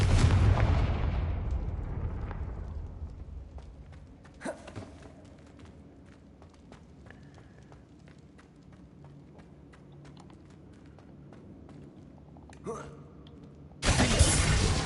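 Confringo blasting spells go off in the Hogwarts Legacy video game: a loud blast opens, fading into a quiet lull with scattered faint clicks and small pops, then another sharp burst hits near the end.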